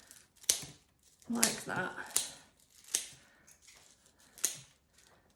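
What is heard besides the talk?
scissors cutting stems for a Christmas wreath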